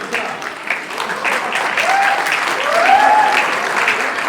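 A crowd at a drama festival applauds the actors with sustained, dense clapping that swells slightly toward the end.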